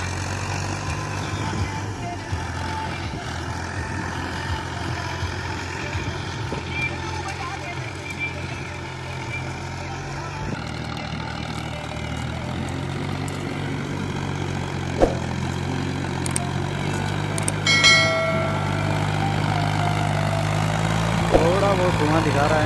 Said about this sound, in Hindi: ट्रैक्टर स्लिप मार रहा है लेकिन दब नहीं रहा है।